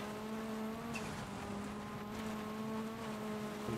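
A rally car in the video game EA Sports WRC on a Safari Rally Kenya stage, its engine droning loud and steady at high revs as it accelerates toward the finish.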